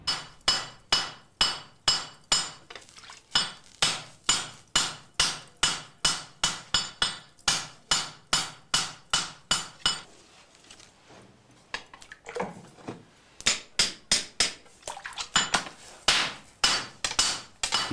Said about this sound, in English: it looks like he's forging pretty darn close to the final shape of the blade